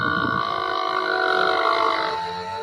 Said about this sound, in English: He just belched at a herd of cows.